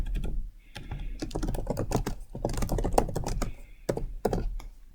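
Brisk typing on a computer keyboard comes as clusters of sharp key clicks separated by short gaps, close and fairly loud.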